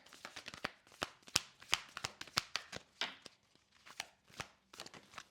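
Tarot cards being shuffled by hand in piles, a series of crisp, close riffling and slapping bursts in an irregular rhythm, with short quiet gaps and no voices.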